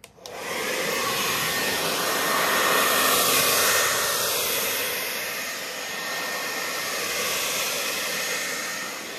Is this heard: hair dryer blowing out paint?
yes